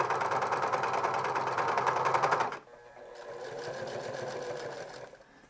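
A sewing machine stitches sleeves onto a turtleneck, its rapid mechanical whirr running loud and steady, pausing abruptly, then resuming at a slightly lower level nearby.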